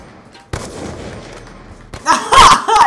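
Gunfire in the video game Black Ops 2 during a 1v1 match, a faint stretch followed by a loud, dense burst of shots near the end, with no speech over it.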